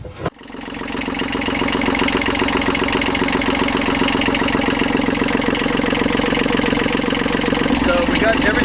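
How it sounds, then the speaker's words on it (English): A sailboat engine cranks and catches on the first try after a brief start burst, then settles into a loud, steady, close idle with an even rhythmic chug. "started the engine, started right up on the first turn"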